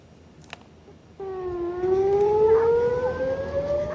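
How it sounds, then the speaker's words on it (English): Air raid siren over central Israel, heard from a Tel Aviv beach promenade: a faint click, then a loud wailing tone that starts abruptly and slowly rises in pitch while sustaining, with a second siren joining for a layered, droning howl. "People on a beach promenade in Tel Aviv take shelter as sirens blared across central Israel and Jerusalem on Saturday morning"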